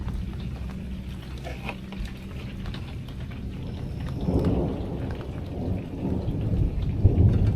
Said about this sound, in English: You see the lightning? It's raining.